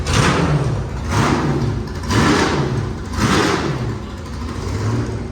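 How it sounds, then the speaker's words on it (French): Group C race cars warm up their engines at the Spa circuit, loud rasping blips rising and fading in roughly regular surges, a rough broadband roar filling the pits. "là c'est les groupes C qui font chauffer leur moteur"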